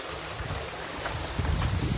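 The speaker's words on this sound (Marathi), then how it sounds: "पाण्याचा आवाज बघा" Water rushes steadily near a hidden waterfall in the Konkan, a constant broadband roar with some wind buffeting the microphone, and no voices.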